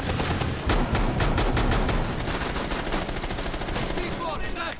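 Rapid bursts of automatic gunfire in a Rainbow Six Siege match, loud and close with dense repeated shots filling the moment, tapering near the end.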